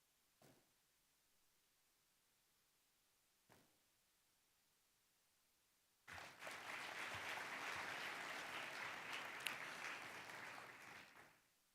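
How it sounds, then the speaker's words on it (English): Applause for Ambassador Lazarus Amayo at a celebration of Kenya's diplomatic history. After near silence with two faint knocks, a large crowd bursts into loud, sustained clapping that lasts several seconds before tapering off. "A round of applause for Ambassador Lazarus Amayo"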